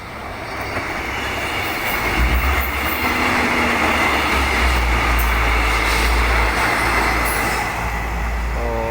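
Train number 40 rolls past the southern level crossing near Ratchaburi station in Thailand, a loud, close, continuous rumble of wheels and cars with deep low drone and occasional squeal, no talk.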